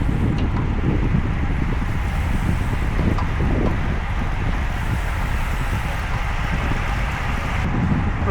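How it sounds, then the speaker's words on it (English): A stiff headwind buffets the microphone of a road cyclist on a Gran Fondo ride toward Miami, making a constant low roar and rumble with gusty surges throughout and no talking. "getting ready to head into a stiff headwind"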